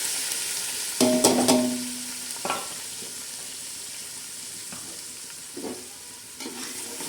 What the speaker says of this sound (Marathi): लालसर मसाला चांगला भाजून घ्यायचा